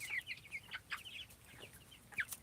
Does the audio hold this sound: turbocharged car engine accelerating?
no